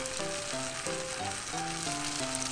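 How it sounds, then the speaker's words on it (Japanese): Chicken for a teriyaki-mayo rice bowl steam-fries in a covered pan, a steady, even sizzle and hiss running throughout beneath background music. "蓋をして1分半蒸し焼きします"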